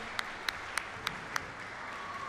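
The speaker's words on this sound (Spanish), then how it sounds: "vamos a darle otro aplauso más al ganador" At a squash tournament, the Paraguay Open 2018 semi-finals, five sharp, evenly spaced claps ring out faintly for the match winner against a quiet indoor background.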